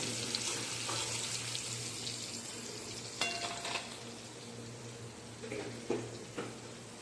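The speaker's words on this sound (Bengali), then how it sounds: "এবার পেঁয়াজগুলোকে ছেড়ে দেবো। পেঁয়াজটা একটু লাল লাল করে ভাজবো" Sliced onions fry in hot oil after tempering spices for doi chicken, making a soft, steady sizzle with occasional scrapes and clinks of a stirring utensil, quiet and close.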